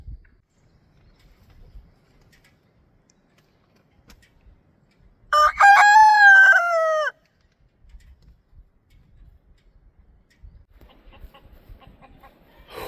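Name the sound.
rooster crowing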